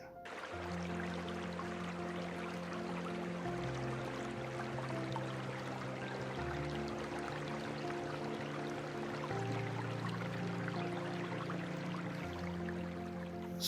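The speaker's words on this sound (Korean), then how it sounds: "수억 년 신비를 간직한 물줄기는 작은 폭포를 지나 돌을 깎고 이끼를 키우며 계곡을 이루어" A mountain stream in Taebaeksan National Park flows past a small waterfall, a steady rushing trickle of water that stays even and close throughout, with soft tonal music layered over it.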